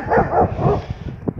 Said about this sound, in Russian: И Татоша оторвался, гавкает